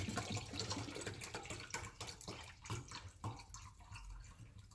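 Water pours and splashes into a container in a steady stream, close by, with small gurgles and drips throughout.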